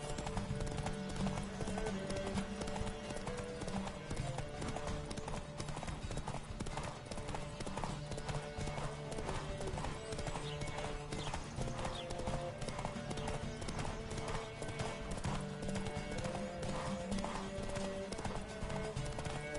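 Galloping horse hooves during a race in The Witcher 3 video game thud in a fast, continuous rhythm at steady loudness, with a faint whinny in the mix and game music or ambience underneath.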